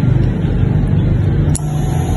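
After installation, a Griffin 180i fuel pump gives a loud, close, continuous low hum and buzz with a short click near the end.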